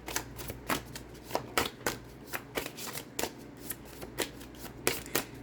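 Cards are riffled and shuffled in quick, irregular bursts of crisp flicking, close up, with no talking.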